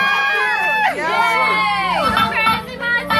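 An indoor crowd at a live show whoops, shouts and cheers loudly in a chaotic burst of overlapping voices, rising and falling with sharp yells over a low background hum.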